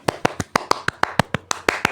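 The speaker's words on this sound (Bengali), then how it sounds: "এই খুশিতে একটু হাততালি দিয়ে দাও" Classmates at a class party clap their hands in a quick, steady rhythm, about a dozen crisp, close claps in two seconds with no talking.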